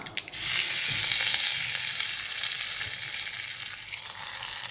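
Spices crackle and sizzle loudly in hot ghee for tomato rasam, a dense hiss that flares up at once and then settles into a steady frying sizzle.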